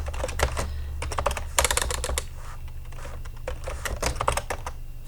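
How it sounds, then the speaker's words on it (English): Fingers typing a search on a computer keyboard, quick uneven clusters of clacking keystrokes with short pauses, close and clear against a low steady hum, no talk. "I'm going to type in pink and yellow"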